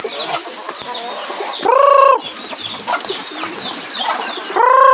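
Chickens cluck and call around a hen with her chicks, with short sharp clucks repeating close by amid softer chick peeps and rustling.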